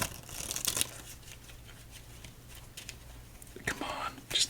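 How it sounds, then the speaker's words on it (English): A deck of playing cards being shuffled for a solitaire game, with crisp riffling bursts at the start and end and soft handling in between, recorded close and quietly. "Let's give this deck 10 total shuffles for the hopes of 10 total fat stacks."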